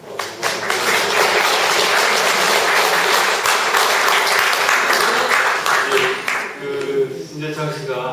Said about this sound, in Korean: 저희 마음을 모아서 다시 한번 박수로